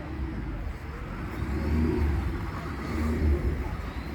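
A Studebaker car's engine idles at a classic car cruise-in, giving off a steady low rumble close by with slight swells in loudness and no clear voices over it.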